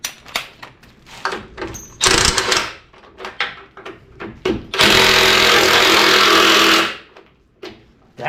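Power drill driving at rusted, seized frame bolts on a 1957 Chevy frame, with a loud sustained whirring burst of about two seconds, a short earlier burst, and scattered clanks and knocks between.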